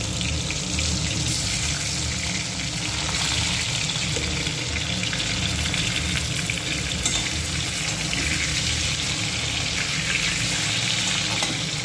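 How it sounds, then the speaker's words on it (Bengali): Sliced potatoes, cut fairly thick and rubbed with salt and turmeric, fry in the oil left over from frying hilsa fish, giving a steady, loud, close sizzle throughout with occasional stirring scrapes. "ওই তেলেই আমি ঝোলের আলুগুলোকে ভেজে নিচ্ছি"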